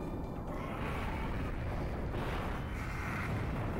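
Fire Rocket attack effect from the Digimon Digital Card Battle video game, a dense continuous roaring whoosh like a rushing blast, loud and sustained throughout without pause.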